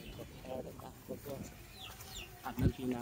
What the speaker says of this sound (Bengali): বাড়ির পিছন সাইড মুরগি খাবার খাচ্ছে